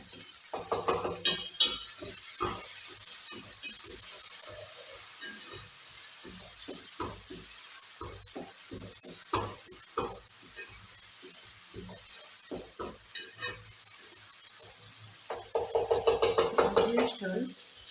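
Beef liver fries softly in a pan with salt and tomatoes added, as a utensil scrapes and stirs in irregular bursts against the pan over a faint sizzle, close and fairly quiet.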